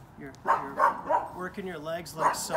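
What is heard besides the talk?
dog barking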